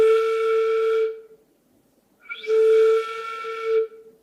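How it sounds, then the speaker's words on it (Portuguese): Lips pushed outward blow a steady breath across paper for flute embouchure practice, giving two sustained whistle-like tones with a pause between them, close and fairly loud. "Assim como você vai assobiar, então soprar o papel."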